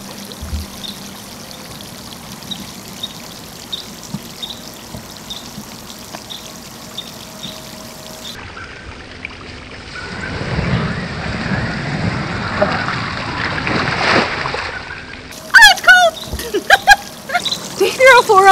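Ice water is poured from a bucket for the ALS Ice Bucket Challenge: a steady rushing splash lasts several seconds, then sharper splashes and bursts follow near the end, with voices in the background.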